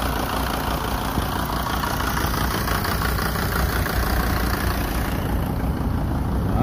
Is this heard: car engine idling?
yes